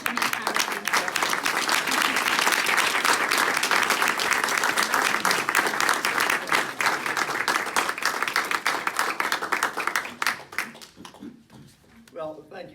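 An indoor audience at a USAID Pride Month event applauds steadily to welcome a congressman, loud sustained clapping that fades out near the end as a voice begins.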